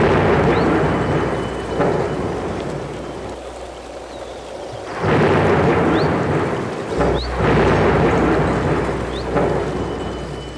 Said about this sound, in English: there came a severe storm